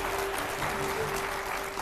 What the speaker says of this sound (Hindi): जोरदार तालियां हो जाए इस पर।